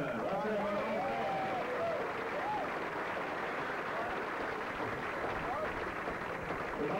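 Applause and cheering from a banquet crowd at a university football senior banquet, steady and moderately distant, with people talking and calling out over the clapping throughout.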